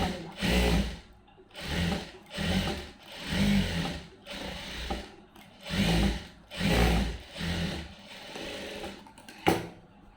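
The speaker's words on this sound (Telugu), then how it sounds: "ఇప్పుడు పై కుట్టు వేసేది" Sewing machine top-stitching a lined blouse in a tailoring class, running in short close bursts of rapid stitching separated by brief pauses, about eight runs in a row.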